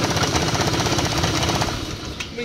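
Scooter engine revving loudly with a harsh, rattling tractor-like clatter from a fault, close and continuous, with a brief metallic tap near the end.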